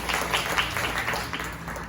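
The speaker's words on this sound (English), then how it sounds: "So give her applause as well." Applause from a theatre audience, a steady wash of many hands clapping at moderate distance that runs evenly for the whole stretch, with a low hum underneath and no voices on top.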